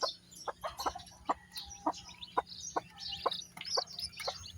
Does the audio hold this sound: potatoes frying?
no